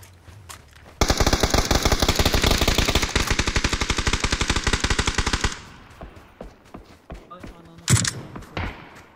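Gunfire in a shooter video game: a long, rapid machine-gun burst lasting several seconds, followed by scattered single shots and thuds, with a voice speaking briefly at the start.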